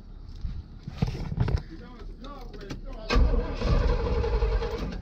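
A car at a used car sales lot cranks and fires up, the engine catching into a louder rumble partway through, after people talk over the early cranking.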